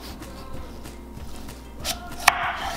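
A sharp knife slices through a large cantaloupe, with a single crisp, crunchy cut near the end over quiet kitchen background.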